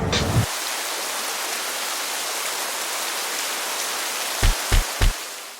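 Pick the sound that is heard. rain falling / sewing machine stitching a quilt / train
rain falling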